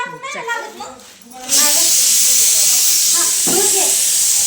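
Someone talks briefly, then a loud, sustained hiss of steam bursts out and keeps roaring steadily from a pressure cooker venting in a kitchen.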